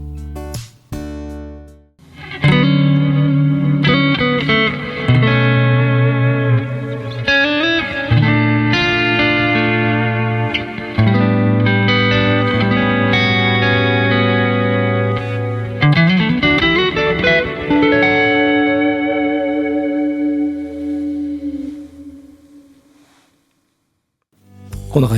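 An electric guitar rings out through a Keeley HALO echo pedal's spacious, shimmering effects, with chords and notes swelling into long echoing tails before fading to silence.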